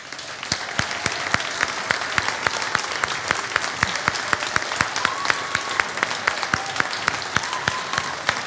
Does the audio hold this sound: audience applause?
yes